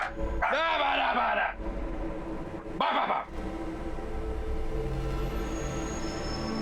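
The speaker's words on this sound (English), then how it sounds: "Stop barking. It scares me." A dog barks inside a quiet house, two loud bursts of barking about two seconds apart over a steady low background hum.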